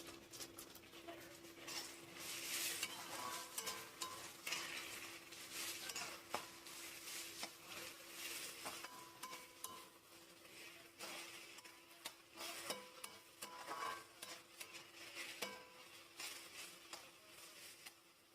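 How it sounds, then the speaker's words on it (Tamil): Chopped onions sauté with fennel seeds in a pan while squid gravy is being prepared, a faint steady sizzle with occasional scraping and stirring clinks from a utensil against the pan. "பெருஞ்சீரகம் பொரிஞ்சோடனே நறுக்கி வச்சிருக்கிற வெங்காயத்தை எடுத்து வதக்கிக்கலாம்."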